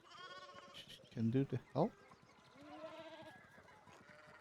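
Sheep bleating in the video game Pentiment, a few short loud bleats in a quick cluster amid soft background ambience, with speech before and after.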